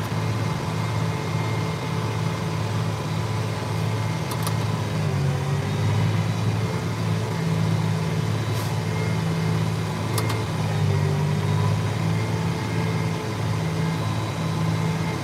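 Tractor engine labouring under a heavy auger load, heard from inside the cab as a steady, loud low drone with wavering pitch throughout, no voices.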